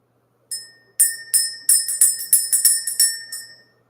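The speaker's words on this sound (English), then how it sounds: "Let's ring the bell." Someone rings a bell repeatedly, producing a run of about a dozen bright metallic strikes in an irregular rhythm, each with a ringing tone that lingers and overlaps before fading out.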